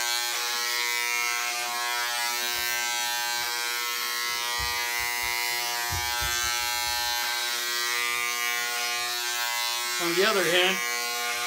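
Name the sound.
electric hair clippers cutting long hair, DIY haircut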